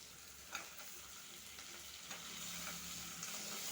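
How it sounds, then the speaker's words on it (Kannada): Onions and chopped tomatoes fry in a pan with a quiet, continuous sizzle, punctuated by a few faint clicks and stirring scrapes, with no voices. "ಈರುಳ್ಳಿ ಫ್ರೈ ಆದಮೇಲೆ ಟೊಮೊಟೊ ಹಾಕ್ತಾಯಿದ್ದೀನಿ."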